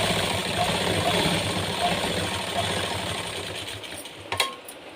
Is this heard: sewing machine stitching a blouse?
yes